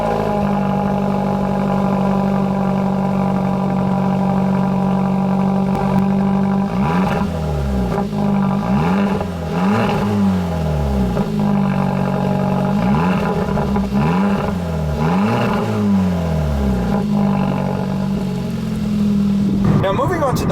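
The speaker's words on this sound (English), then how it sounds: "even though this car does not have a tuned exhaust, it still sounds very," A 2017 Hyundai Elantra Sport with an untuned exhaust revs repeatedly in short bursts over a steady idle, the exhaust note rising and falling several times, loud and close.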